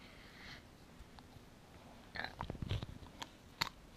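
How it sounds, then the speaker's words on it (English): A dog gnaws on a pencil cap, a run of close, crisp crunching and biting clicks in short bursts after a quiet stretch. "And now she's chewing on the cap of it again."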